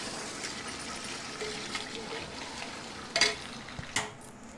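Chicken biryani masala with chicken legs is stirred in a pot, a steady close scraping and soft sizzle with a few sharper clinks of a utensil against the pot near the end.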